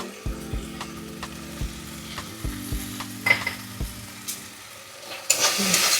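A spoon stirs turmeric and Kashmiri chilli powder frying in mustard oil in a pan for a Bengali mutton curry, with regular scraping knocks against the pan over a steady sizzle that swells louder near the end.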